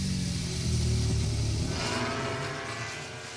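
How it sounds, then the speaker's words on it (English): A MotoGP racing motorcycle engine during a 2025 Valencia Grand Prix qualifying session, a steady low rumbling drone with a brief higher whine, heard at a moderate distance with no talking. "we're going to hear the engine now. Let's have a listen."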